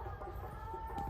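A chicken clucks faintly in the background with short, scattered calls under a low, steady ambient hum.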